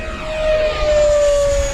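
An E-flite Twin Otter model airplane flying at a model aviation day makes a loud, steady, high motor whine that holds a nearly constant pitch as it passes close by, with no voices.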